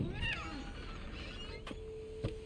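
A cat meows in the video game What Remains of Edith Finch, a short plaintive call near the start over a soft ambient hum with a few faint clicks.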